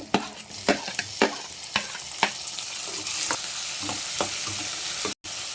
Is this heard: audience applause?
no